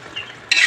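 Biko, a sticky Filipino rice cake, gets stirred in a pot: a soft scraping swish that jumps to a louder, sustained stirring rasp partway through, close up with no talk.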